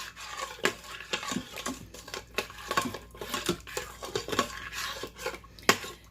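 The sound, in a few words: scraping browned bits off the bottom of a pan for gravy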